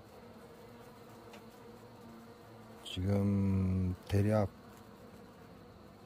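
Black hornets and honeybees around a hive give a loud, close buzzing burst of about a second, then a shorter second burst, over a low steady hum of activity. A voice speaks briefly.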